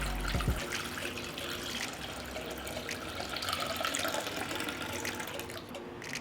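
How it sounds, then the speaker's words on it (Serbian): Water streams steadily into a cooking pot holding canning jars set on a cloth, a continuous near splashing pour at moderate volume with no talk. "I zatim ću sipati vodu u šerpu do visine poklopca."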